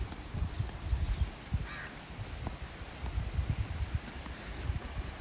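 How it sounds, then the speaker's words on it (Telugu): Crows cawing and other birds calling around a forest resort near Araku with lawns, a rose garden and a water body; a few caws stand out faintly over low outdoor rustle and wind. "అంతా ఈ న్యాచురల్గా పక్షులు కిలకిల రావాలి."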